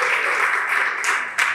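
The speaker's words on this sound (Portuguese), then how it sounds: "Palmas para o fator crítico." Brief burst of audience clapping during a lecture on behavioural weight loss, a steady wash of many hands, loud and close, lasting only a moment.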